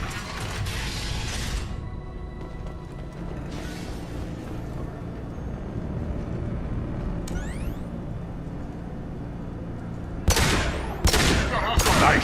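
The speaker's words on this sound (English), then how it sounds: "Blue Suns and Vorcha shooting anything that moves." Automatic weapons fire from Blue Suns mercenaries and Vorcha in a sci-fi shooter game, sustained rattling bursts under a steady ambient hum, with loud sharp shots clustering near the end.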